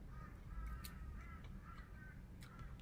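Crows caw repeatedly outdoors, a string of harsh, fairly distant calls over a steady wash of background noise with no talking.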